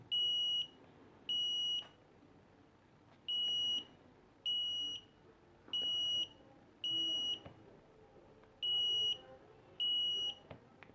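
An Arduino door alarm buzzer sounds a series of eight piercing, evenly spaced electronic beeps, each lasting about half a second with short pauses between, close and clear over a quiet background.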